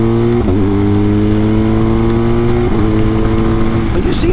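A BMW R1250GS motorcycle fitted with a BT-Moto Stage 1 upgrade accelerates hard, its engine note climbing through gears with two brief dips at shifts, loud and close throughout.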